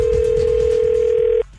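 A steady telephone dial tone holds for about a second and a half at even loudness, then cuts off abruptly, leaving faint room noise.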